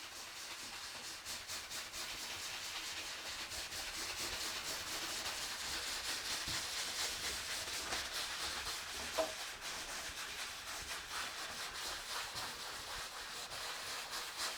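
Two oil-painted boards rubbed against each other to thin the paint, giving a steady, soft, continuous scraping hiss of moderate level throughout, close and without speech.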